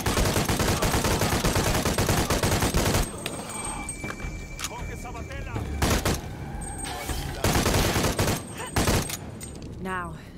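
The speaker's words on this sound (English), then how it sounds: "This calls for a machine gun chat!" Automatic gunfire in the video game Shadow of the Tomb Raider, loud bursts dense at first, then broken into shorter volleys with brief gaps and game ambience between.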